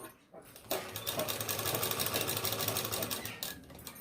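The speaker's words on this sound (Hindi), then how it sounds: "कॉर्नर सही करने के बाद हम यहाँ तक सिलाई लगा लेंगे" A sewing machine runs steadily, stitching lace onto a dupatta, its fast even whir starting after a brief pause and continuing close and clear before slowing near the end.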